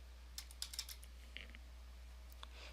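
Keys clatter on a computer keyboard as a company name is entered into a spreadsheet cell, a few quick bursts of soft clicks with pauses between, close and faint over a low steady hum.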